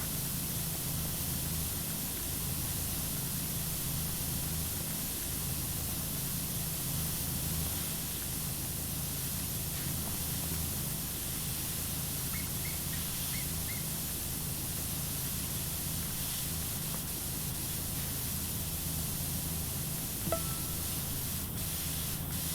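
A pressure washer sprays steadily in the Powerwash Simulator video game, producing a constant broadband hiss with a faint background hum and no breaks.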